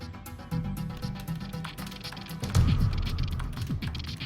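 Fingers type on a computer keyboard, a close, busy stream of clicking keystrokes that grows louder and denser partway through, with no voices.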